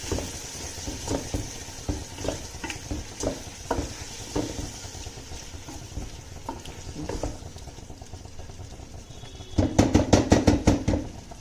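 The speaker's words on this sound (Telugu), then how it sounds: "ఆయిల్ పైకి తేలేంత వరకు ఫ్రై చేసుకోవాలి" Vegetables and curd frying in oil for veg dum biryani, a steady soft sizzle with scattered scrapes of a spoon, then a burst of rapid stirring clatter near the end, close and with no talk.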